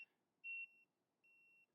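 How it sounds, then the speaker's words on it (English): Two steady electronic beeps from an e-bike's turn signals (Velotric Nomad 2X), the first louder and brighter, the second softer and longer, separated by a short pause against quiet background. "it also alerts you with a beep to let you know they are on"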